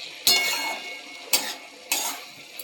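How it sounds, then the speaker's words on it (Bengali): Bethua greens are stirred in a cooking pot with a utensil, giving three scraping, rustling strokes spaced about a second apart over a soft steady hiss, close and moderately loud, with no talking. "শাকটা একবার নেড়ে দেব।"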